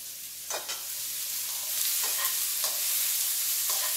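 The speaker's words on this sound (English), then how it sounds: "Let's give these mushrooms a toss." Mushrooms and onions sizzle steadily in a small wok-like pan while tongs toss them in several brief scraping, clattering bursts, close and fairly loud, with no talking.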